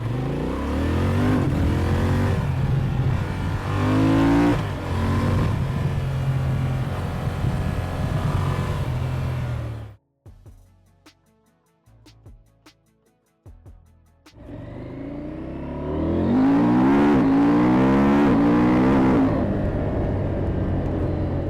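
A motorcycle engine revs hard and roars, drops to a brief quieter idle with a few blips, then revs up loudly again.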